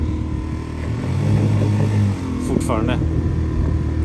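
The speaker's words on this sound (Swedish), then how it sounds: "Ni hör motorn gå upp och ner i vattnet." Small outboard motor on a little boat labouring in large waves, its drone rising and falling as the hull rides the swell, close and loud under someone talking.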